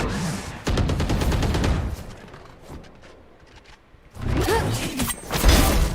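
Rapid volleys of gunshots in a first-person shooter, two loud dense bursts framing a quieter middle stretch of scattered mechanical clicks and shots.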